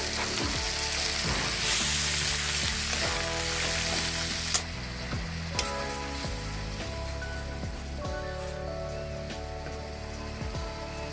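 Ground spice paste hits onion and garlic already fried in a pan for a Bengali rohu fish curry, giving a steady loud sizzle with a few sharp pops and stirring scrapes, no voices.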